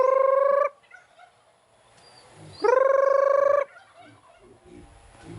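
Turkeys being called for feeding on a farm where pigs and piglets are also kept, giving two loud, close, rapid warbling gobbles separated by a pause, with faint farmyard rustling between them and no talk.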